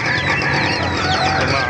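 A dense chorus of chickens clucking close by at an animal market, loud and continuous, like a crowded coop.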